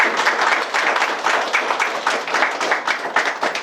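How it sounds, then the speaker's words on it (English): An audience at the WAES Learner Awards 2022 gives a sustained round of applause for a sponsor, dense steady clapping filling the hall with slight swells and no voices over it. "So if you could just actually give them a round of applause,"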